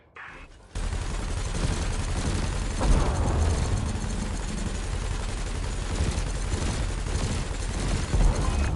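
Sustained ship cannon and laser fire in a space combat video game, a dense continuous barrage of rapid shots that stays loud throughout, with a few heavier booms near the start and end.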